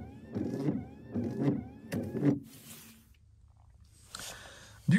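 Dacia Spring electric car front wipers sweeping the windscreen in a few rubbery, squeaky strokes, followed by a brief spray from the washer pump, all close and fairly quiet.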